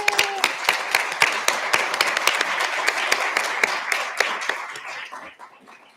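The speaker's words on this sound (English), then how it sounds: "If you wouldn't mind standing for us so we can applaud you." An audience applauds members of the LCCC Board of Trustees at a radiography pinning ceremony, a dense, steady wash of many hands clapping at close to moderate distance, fading toward the end.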